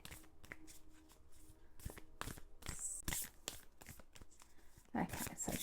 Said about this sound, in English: I'm shuffling, fanning out, and I'm just choosing a card with my non-dominant hand.